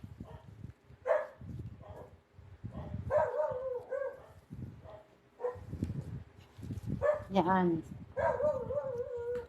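A dog barks and yips outdoors, somewhat distant, in short bursts that come and go beneath ongoing conversational speech in an indoor workspace where a sofa bed pattern is being measured.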